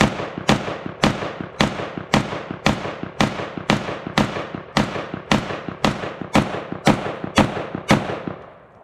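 Rapid string of loud, sharp gunshots from a SIG SG552 rifle, about sixteen evenly spaced cracks over nine seconds, each with a short ringing decay, no talking.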